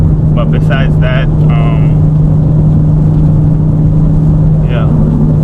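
A BMW G80 M3 Competition, untuned but fitted with a race chip, drones steadily from inside the cabin as a loud low engine rumble at constant pitch, with brief squeaky interior noises on top.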